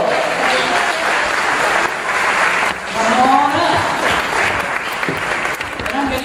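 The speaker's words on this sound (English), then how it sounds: "So give a round of applause to Heathers," An audience applauds loudly for the cast of Heathers the musical at a teen musical concert, with steady clapping and cheering running through the whole stretch and voices mixed into the crowd.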